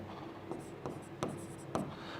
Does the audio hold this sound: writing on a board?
yes